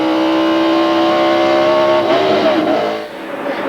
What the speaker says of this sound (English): You heard the RPMs go way up on the car